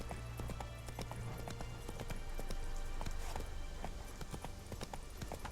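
Horse galloping in The Witcher 3, a steady run of quick hoof clip-clops under a continuous low game ambience, close and moderately loud throughout, with a brief snort near the start.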